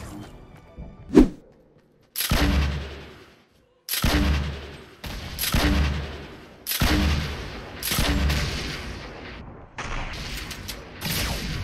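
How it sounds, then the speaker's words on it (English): Gunfire and explosions in a first-person shooter, including a bounced grenade going off: a sharp early bang, then a series of loud, heavy booming bursts about every second and a half, each followed by a short rumbling tail. "Was that my own grenade? It bounced?"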